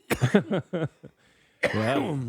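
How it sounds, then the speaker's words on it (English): Several harsh coughs burst out in quick succession up close, followed by a pause and then a strained, rising vocal sound like further coughing or groaning. "Made him cough on that one."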